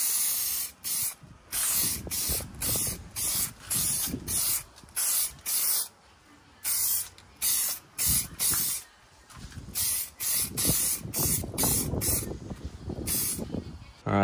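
Spray can coating custom blackout car headlights, the hiss coming in repeated close bursts of a second or two with brief gaps, then a longer, more continuous stretch of spraying near the end.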